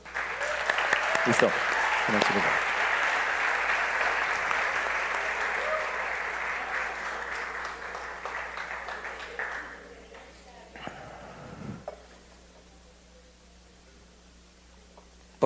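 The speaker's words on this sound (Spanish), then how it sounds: "Un aplauso." Church congregation applauding loudly and steadily for about ten seconds during a sermon, then fading out, with a few voices speaking briefly over the clapping.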